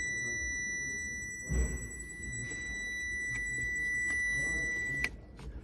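Power Probe PPECT3000 circuit tester held near a vehicle wiring loom, giving a steady high electronic tone that runs throughout, with a few soft handling knocks and a small click near the end.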